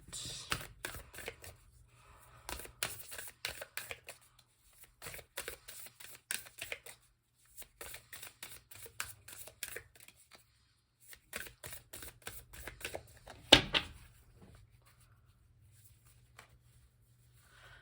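Repeated bursts of cards being riffled and shuffled, close up, in quick clustered runs separated by short pauses, ending with a sharper snap.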